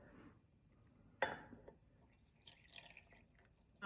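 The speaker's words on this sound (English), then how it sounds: "So we're going to put the water over it." Water poured over a DIY ice ornament mold in a winter garden, a sudden splash followed by a trickling, dripping stream, moderately close with soft background noise.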